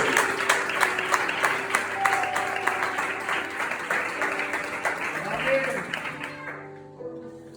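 A church congregation breaks into sustained applause after a sermon reading, dense clapping filling the room with voices mixed in, then thinning and fading out over the last two seconds.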